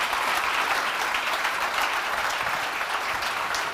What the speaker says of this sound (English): Give him a great big round of applause, ladies and gentlemen.